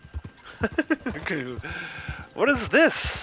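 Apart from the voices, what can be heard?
horse in the video game Red Dead Online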